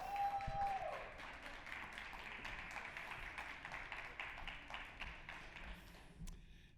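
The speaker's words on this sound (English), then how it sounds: "A big round of applause." Audience applause welcoming a performer to the stage, a rapid, fairly faint patter of many hands clapping that keeps going for several seconds and then thins out near the end.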